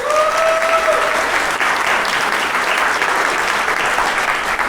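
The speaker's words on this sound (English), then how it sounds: "Round of applause." An audience at a tech meetup breaks into steady applause, a dense continuous wash of clapping that holds evenly throughout with no pause.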